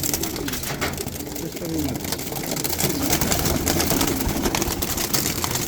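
Pigeons coo at a Keraniganj pigeon market, a steady murmur of many birds close by, with people talking and moving through the crowd throughout.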